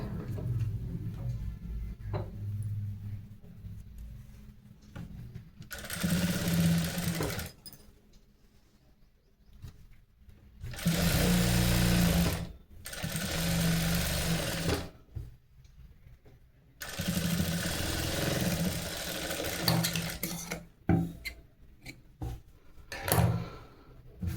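Sewing machine stitching a blouse, running in three separate loud bursts of rapid mechanical whirring, with quiet gaps and small clicks in between.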